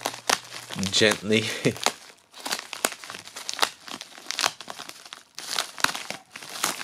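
Packaging around an eBay collection of Magic: The Gathering foil cards being cut open, with crinkling and tearing plastic in short close bursts while someone talks over it.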